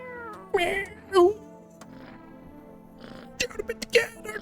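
A cat meows several times in the video game No, I'm Not a Human, short high cries spaced apart, clear and close, with a quiet electronic tone underneath and no talk.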